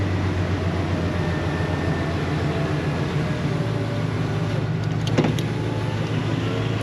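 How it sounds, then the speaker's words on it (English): A driver's-side electric power window rolls down in a 1999–2006 Chevrolet Silverado truck fitted with an electric window conversion, a steady continuous motor whir and hum with a brief click near the end. "Automatic roll down works."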